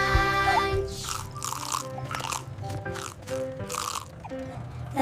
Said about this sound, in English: The apples on the fruit bus go crunch,